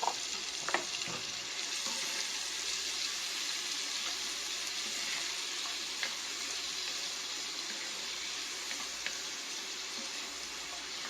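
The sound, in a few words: onions and celery sizzling in a pan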